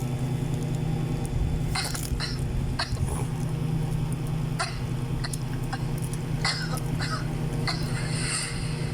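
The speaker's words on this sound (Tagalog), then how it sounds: "Ubo number 2, ubong pasan ko ang daigdig" A few sharp, exaggerated coughs burst out over a steady low background hum, spaced irregularly across the stretch.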